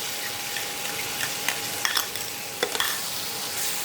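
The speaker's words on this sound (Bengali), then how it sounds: "এটা আরও ভালো করে একটু কষিয়ে নেব।" Tomatoes and spices sizzling and frying in a pan for mutton ghugni as they are stirred, a steady hiss with occasional clicks of the spoon against the pan, no talk.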